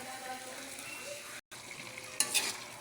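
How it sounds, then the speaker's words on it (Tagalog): Chicken pieces fry in oil for tinola, stirred in the pot with a steady crackling sizzle, a brief dropout midway and louder spoon scrapes near the end. "Kailangan din natin halu-haluin."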